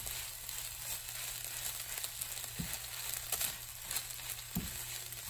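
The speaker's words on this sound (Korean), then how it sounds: "밥에 김치 양념이 배이도록 충분히 섞어서 볶아줍니다" Squid kimchi fried rice is stir-fried in a pan, a soft, steady sizzle close by with occasional scraping and tossing taps from the stirring and no talk.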